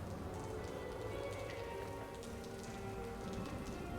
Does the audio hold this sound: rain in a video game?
yes